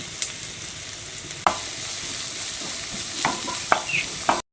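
Two chopped onions fry steadily in a pan, a continuous close sizzle broken by a few sharp scrapes and clacks of a spoon stirring them, with no talking.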